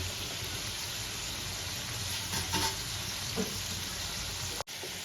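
Potato pieces fry in hot oil in a pan, a steady close sizzle with a few scraping stirs midway and a brief knock near the end, no voices present.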